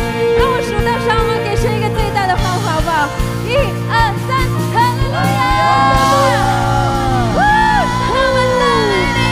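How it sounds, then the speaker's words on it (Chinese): A church congregation at a prayer meeting whoops, shouts and cheers loudly over sustained music, with rising and falling voices layered throughout. "让我数到三，我们给神一个最大的欢呼"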